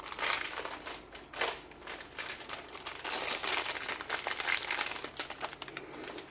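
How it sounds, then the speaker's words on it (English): Plastic packaging crinkles and crackles up close as a small craft item set is pulled out, a busy run of sharp rustles with no talk. "This one is a set, let me get it out of the crinkles"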